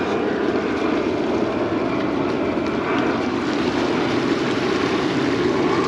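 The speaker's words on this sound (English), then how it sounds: "There's another plane taking off." A loud, steady roar of a jet airplane taking off near Ciudad Jardín beach, Palma de Mallorca, fills the air continuously, a broad rumbling drone with no pauses.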